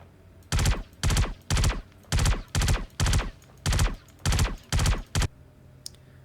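Star Citizen video-game gunfire in three-round bursts, a tight rhythmic string of about nine sharp, loud bursts fired steadily over five seconds, then a short quiet tail.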